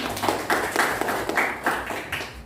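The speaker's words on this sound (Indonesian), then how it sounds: "Iya, tepuk tangan." A classroom of students claps hands in a quick, uneven burst of several short rhythmic rounds, close and moderately loud with no talking.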